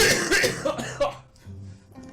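A person coughs several times in quick succession, close and loud, with a rough throaty burst followed by a brief quieter tail.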